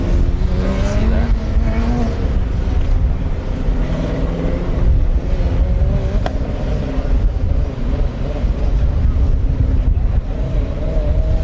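Formula SAE internal-combustion race car running the autocross course at the 2024 competition: a loud, continuous engine drone with shifting pitch that stays close and steady throughout.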